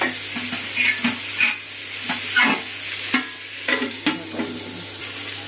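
Potato and papaya fry in hot oil in a pan over raised gas, a steady close sizzle broken by repeated scrapes and clinks of a stirring spoon.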